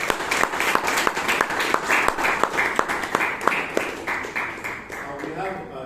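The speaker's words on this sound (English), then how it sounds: "Give them a big round of applause." An audience at a Bangalore Toastmasters meeting claps for the evaluators, a dense, steady round of applause that tapers off near the end while voices murmur underneath.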